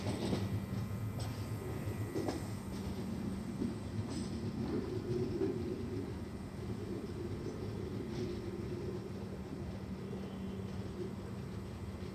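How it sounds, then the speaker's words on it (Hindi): The Bareilly Varanasi Express stands at platform 1 of Alamnagar railway station, with a low steady rumble of the train and faint station noise throughout, no talk. "और यहाँ पे प्लेटफॉर्म नंबर 1 पे खड़ी है बरेली वाराणसी एक्सप्रेस"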